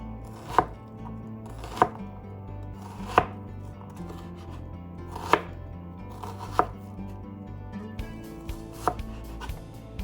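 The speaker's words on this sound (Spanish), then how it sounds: "ahí tenemos la cebolla. Básicamente parece que no estuviera cortada, pero entonces ahora hacemos unos cortes a lo largo muy delgados" Knife cutting an onion thinly lengthwise on a board, producing about eight sharp, separate chops at uneven intervals over a low steady background hum.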